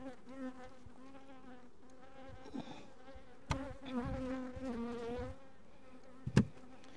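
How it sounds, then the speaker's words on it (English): Honey bees swarm out of a freshly opened, poorly performing beehive, a close, steady droning buzz with shifting pitch as they fly around, broken by a couple of sharp knocks from the hive. "as expected, the bees aren't terribly happy to see me"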